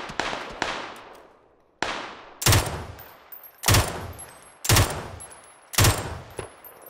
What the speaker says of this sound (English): There's like a million people shooting in the fucking hay fields